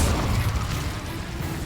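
A fire spell cast in the video game Hogwarts Legacy, giving a steady low rumbling roar of flame that holds at an even, moderately loud level for the whole span with no voices.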